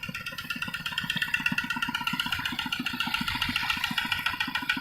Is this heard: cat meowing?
no